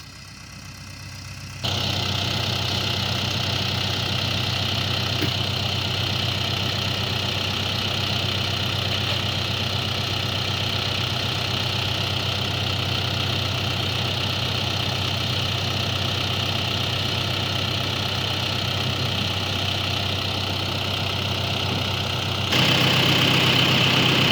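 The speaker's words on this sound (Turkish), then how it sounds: "Gördüğünüz gibi yanaştı traktör." Tractor engine idling in a cornfield during herbicide spraying, starting abruptly and then running as a steady, loud, close diesel rumble with a faint knocking texture, with no talk over it.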